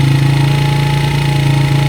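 A 1990s Honda XR100 motorcycle engine idles steadily after a carburetor adjustment, a loud close low putter with an even rhythm and no voices.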